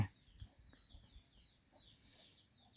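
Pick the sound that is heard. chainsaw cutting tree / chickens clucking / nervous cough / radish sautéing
chickens clucking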